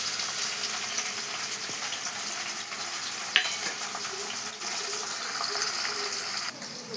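Chopped onions and tomatoes frying in hot oil in a pan, giving a loud, continuous close-up sizzle with brief stirring clatters and bursts throughout.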